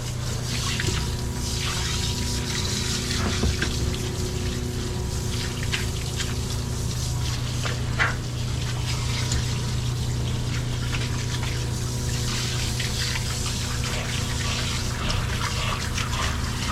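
Water runs steadily from a tap or hose while a dog is rinsed, a continuous close hiss with faint splashing and no talking.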